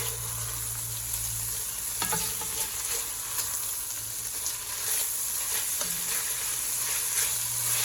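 Beef sizzles steadily in extra virgin olive oil in a pan while being flipped and stirred, with a continuous close frying hiss and occasional scrapes and clinks from the utensil.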